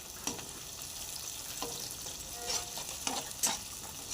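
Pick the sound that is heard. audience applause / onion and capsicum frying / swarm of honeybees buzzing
onion and capsicum frying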